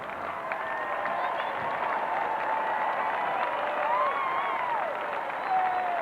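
Stadium crowd applauding and cheering at the 1990 Commonwealth Games opening ceremony in Auckland as the New Zealand team passes, a distant, sustained roar of applause with band music and a commentator talking over it.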